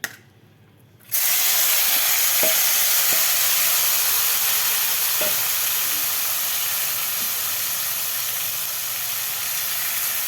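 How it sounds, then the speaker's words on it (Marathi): Masala-coated mushrooms fry in oil in a kadhai, a loud, steady broadband sizzle that starts abruptly and hisses on continuously, with a few faint clicks. "आता आपण हे मसाला लावून घेतलेलं मशरूम यामध्ये फ्राय करून घ्यायचं आहे"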